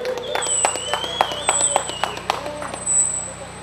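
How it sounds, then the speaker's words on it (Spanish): Crowd clapping at a village dance in Zitlaltepec, Guerrero, during a patron saint celebration, heard as a string of sharp, fairly close claps with a voice running over them. "Un aplauso para nuestro San Miguel Arcángel"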